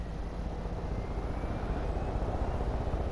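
Helicopter from the Far Cry video game, a steady broadband rotor and engine roar that stays loud and close throughout with no talking.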